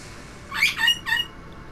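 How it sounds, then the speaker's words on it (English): A pet bird, a female, gives a few quick shrill squawks in under a second, moderately loud and close, over a quiet background hum. "I would tell the bird to shut up"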